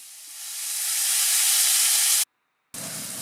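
Slices of lamb leg hit hot farm butter in a pan and sizzle with a loud, steady hiss that swells over two seconds, cuts out abruptly, then resumes.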